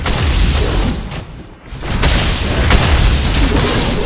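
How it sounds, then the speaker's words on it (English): A turret being destroyed in a mobile battle game gives a loud, sustained booming explosion, dense low rumble that dips briefly midway and then swells again, with no talking. "Our turret has been destroyed."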